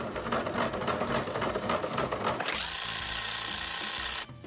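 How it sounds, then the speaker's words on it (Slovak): A sewing machine stitches thrifted clothing, first with uneven mechanical clatter, then settling into a loud, rapid, continuous whir that stops abruptly near the end. "Vyzerá to, že to šijem."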